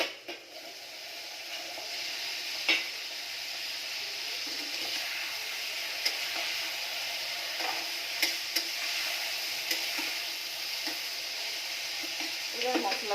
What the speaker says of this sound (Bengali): নাড়াচাড়া করে নিই একটু ঢেঁড়সটা